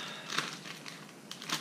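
Plastic bag for a DNA test kit being crinkled, a few short crackling rustles close by with quiet pauses between.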